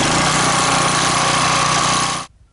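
A gas pressure washer engine runs loud and steady with a rough, rattling roar for about two seconds, then cuts off abruptly into near silence.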